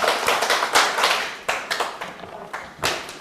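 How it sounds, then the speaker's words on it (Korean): An audience in a Korean civil-law lecture hall claps. It sounds like a scattered, uneven run of sharp hand claps, fairly close and loud, with brief gaps between bursts. "박수 한번 쳐주시고"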